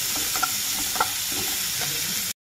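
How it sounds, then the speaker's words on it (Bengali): Onions with a little salt fry in a pan, a continuous hiss of sizzling punctuated by soft stirring taps, ending abruptly. "দিয়ে এটাকে অল্প একটুখানি নুন দিয়ে ভালো করে করব ফ্রাই। পেঁয়াজটা যতক্ষণ না লাল হয়ে যাচ্ছে না ততক্ষণ আমি এটাকে ভালো করে নেব ফ্রাই।"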